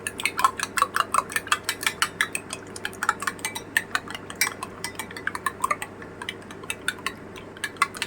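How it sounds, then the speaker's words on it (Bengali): Eggs mixed with curd get whisked briskly in a bowl, a rapid run of light clinking taps against the bowl's side, close and fairly quiet, with no talking. "এবারে আমি ডিমটাকে ভালো করে ফেটিয়ে নিচ্ছি"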